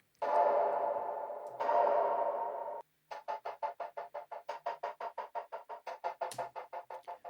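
Synth chords built from a granulized sample in a drum and bass section: two long sustained swells, then a fast rhythmic run of short chopped stabs, fairly quiet and alone.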